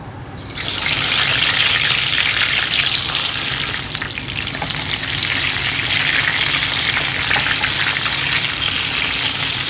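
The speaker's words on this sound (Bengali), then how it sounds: "ফ্রেশ হয়ে বেগুনটা ভেজে লাঞ্চ করবো" Brinjal slices fry in hot oil in a pan, giving a loud, steady sizzle that holds close and continuous, with a brief dip and then a rise again.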